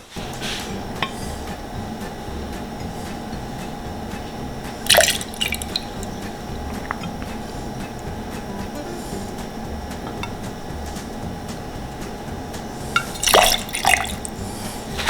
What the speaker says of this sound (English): Alright, so now I need to add my rye.